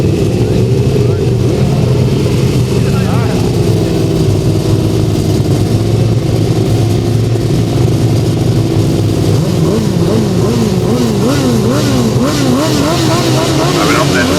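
1000cc right-hand sidecar grasstrack racing outfits roar continuously, engines revving and rising and falling in pitch as they pass, loud throughout with a commentator talking over them.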